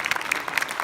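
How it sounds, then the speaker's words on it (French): A crowd at a film premiere in Lyon applauds for Lisa, a brief burst of close, lively clapping. "Tu peux applaudir Lisa?"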